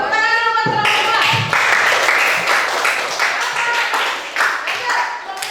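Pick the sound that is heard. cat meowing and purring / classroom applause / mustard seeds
classroom applause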